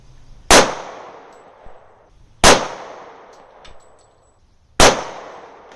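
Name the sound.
gunshots at a shooting range target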